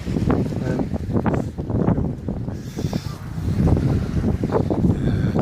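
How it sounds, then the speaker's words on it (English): Breezy coastal wind buffets the microphone with a steady low rumble and gusty swells throughout, loud and close, with faint background sounds mixed in by the shore at high tide. "It's not too cold, a little bit breezy as you can probably tell."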